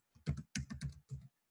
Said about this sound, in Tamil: வெல்கம் டு பைத்தான் அப்படின்னு டைப்